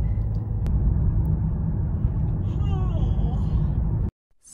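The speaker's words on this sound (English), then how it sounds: "My mom's driving me there." A car on the way to a filming location, heard as a steady low engine and road rumble from inside the cabin that cuts out abruptly near the end, with brief talk over it.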